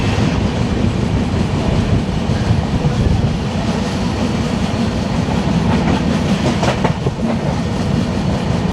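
The Rajdhani Express picks up speed leaving Alappuzha, heard from inside a coach as a loud, steady rumble with rhythmic clickety-clack of wheels over rail joints, continuous and close.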